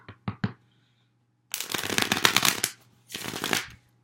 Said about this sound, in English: Apologize for the loud shuffling